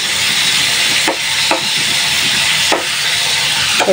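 Hilsa fish roe sautéing in a hot pan gives a steady, loud sizzling hiss that runs throughout, broken by a few soft stirring scrapes and no talk.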